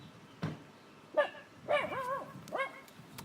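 A dog gives a few short, close yips and barks with whiny rising and falling tones, four or five bursts spread over a few seconds in a quiet room.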